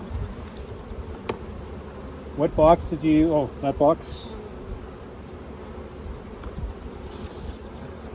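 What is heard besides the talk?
honeybees buzzing at an open hive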